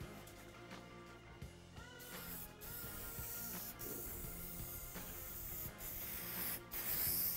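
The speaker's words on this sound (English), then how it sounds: "Now, to start, we're gonna lube up this side of the tire's bead." Lubricant is rubbed onto a dirt bike tire's bead before mounting it on the rim, a faint, close scrubbing and rubbing with soft spray-like hiss and occasional sharp ticks.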